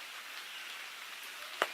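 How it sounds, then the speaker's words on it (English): Steady rain falls outdoors as a soft, even hiss, with one sharper close tap or drip near the end and no voices. "More than drizzling, it's been raining pretty good."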